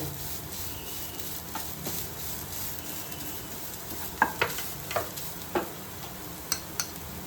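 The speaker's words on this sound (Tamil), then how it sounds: "சும்மா லைட்டெல்லாம் வறுக்கக்கூடாது நல்லா மணல் கலரில் அந்த தேங்காய் கலர் சேஞ்ச் ஆகும்" Grated coconut roasting in a pan with green chili and curry leaves for a Kerala-style egg curry: a soft, low sizzle under sharp spatula clicks and scrapes that cluster in the second half.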